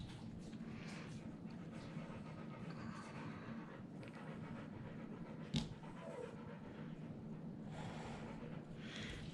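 Steady, rapid dog panting continues close by against a noisy background, broken by a single sharp knock partway through.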